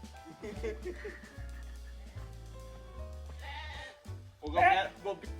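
A lamb bleats repeatedly in a mountain setting in Skardu, with short wavering cries coming near and clear while people talk and laugh over it.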